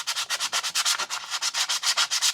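Grit sandpaper is rubbed quickly back and forth across a brake pad from a seized rear brake on a MK2 Golf, making a close, loud, rhythmic scratching of about twenty strokes with no talking.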